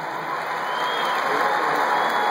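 A concert audience in San Antonio applauds and cheers for a singer, a dense steady wash of clapping and whoops that swells slightly, loud and close, with no distinct talking.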